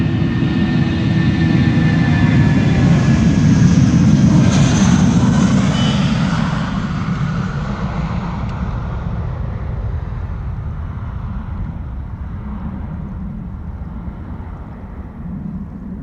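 An SAS airliner in retro livery departs Amsterdam Schiphol, a loud jet engine roar that swells and then slowly fades as the plane climbs away, with no voices.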